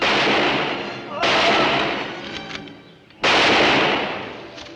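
Two loud, sharp gunshot blasts fired at a sheriff outside Dodge, each starting abruptly and trailing off into a long ringing decay, the second a couple of seconds after the first, with no talking.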